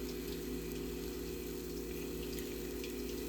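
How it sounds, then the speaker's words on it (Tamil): Water streams steadily into a pan of green beans cooking for a South Indian poriyal, a constant close pouring rush with no talking. "அதுக்கு தேவையான தண்ணி ஊற்றிக்கலாம்"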